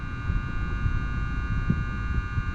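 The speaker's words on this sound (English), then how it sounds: "Just put the wire back on the contactor. You can hear it humming." An air conditioner contactor gives off a steady, even electrical hum. It stays constant and close throughout, with a faint rumble underneath and no voices.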